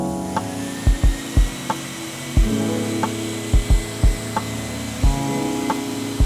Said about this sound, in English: Remember, we're starting our sander on the timber.